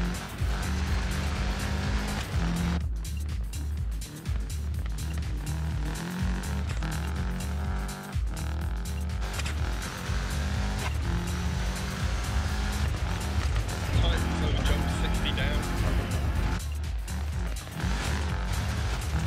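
A rally car engine in a WRC video game roars continuously at high revs, shifting pitch with gear changes and bursts of acceleration, loud and steady throughout.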